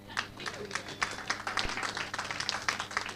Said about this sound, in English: That's the part in the speech where you have to clap.